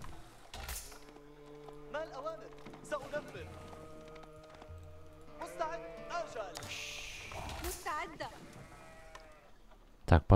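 Sheep in the video game Age of Empires IV bleat in a series of short, wavering calls, several in a row, quiet against game ambience while someone talks over them.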